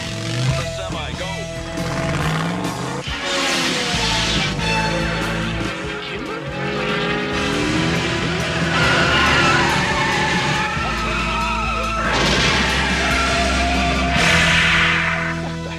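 A semi truck and motorbikes rush through a cartoon film stunt, with roaring engines, screeching skids and tire squeals building and fading across the scene while voices call out over the racing vehicles.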